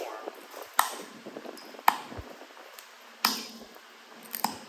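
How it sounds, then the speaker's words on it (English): Sharp, hard clicks and taps of a tool striking Florida coral while its edge is bevelled in flintknapping, four loud strikes spaced a second or so apart with fainter scraping and small taps between, close and without talk. "I'm actually going to bevel it some more"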